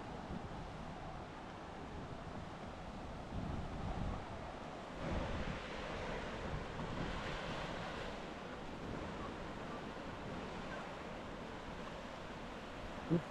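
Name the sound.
Mediterranean Sea waves at a beach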